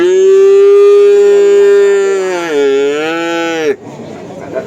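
A cow at a cattle market in Kerek lets out a long, loud, sustained moo that wavers and then cuts off abruptly, close to the listener.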